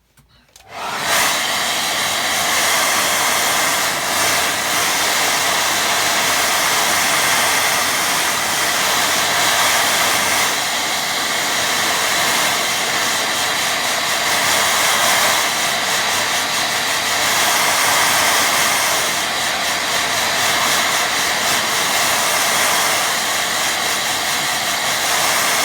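A hair dryer blows steadily over a loose watercolour painting, a loud continuous whooshing roar that starts abruptly and holds at an even level throughout with no talking.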